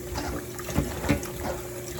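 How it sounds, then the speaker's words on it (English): Tap water runs and splashes while salt is rinsed off watermelon rind in a home kitchen, a steady wash with a couple of small knocks and sloshes close by. "Then I'm gonna rinse this off good."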